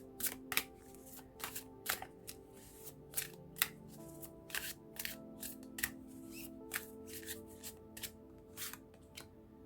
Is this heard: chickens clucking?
no